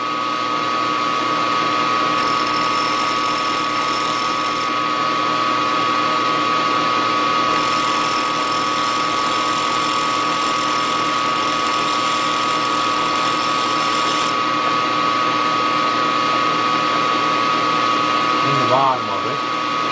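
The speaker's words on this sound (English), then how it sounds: "Now I can hand grind that top off of it a little bit." A hand grinder takes the top off a small metal lathe part in a home workshop, giving a loud, steady high whine that keeps running with brief dips in pitch, close up.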